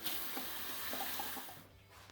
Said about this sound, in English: we need to top our fermenter up with cold water. I'm using cold tap water